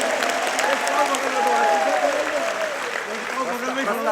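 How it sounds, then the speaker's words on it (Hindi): An audience at a devotional gathering in Bhopal claps, a continuous spread of applause under a voice that talks over it with a tonal, drawn-out delivery. "दोनों हाथ उठाकर जोरदार तालियां बजना"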